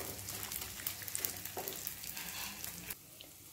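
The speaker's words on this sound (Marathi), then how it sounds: "सुरुवातीला थोडा थोडा करून हा डिंक चांगला फुलेपर्यंत तळून घ्यायचा आहे" Edible gum (dink) frying in hot oil makes a soft, continuous crackling sizzle with light stirring, easing off toward the end; no one speaks.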